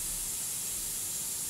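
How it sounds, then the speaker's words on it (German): Soft, steady hiss of air escaping as cabin pressure drops, a continuous bright rushing noise with no variation or pauses, close and unbroken. "als er ein leises Zischen vernahm. Der Kabinendruck begann sich zu senken."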